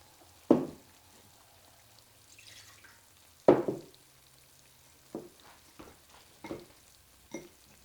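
Pepper steak stir fry stirred in a hot pan, with sharp scraping clunks of the utensil against the pan every few seconds over a faint sizzle, close and fairly quiet, with no talking.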